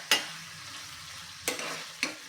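Bottle gourd and jaggery stirred in a pan: three short, distinct scraping strokes against the metal over a faint, steady low sizzle, with no voices.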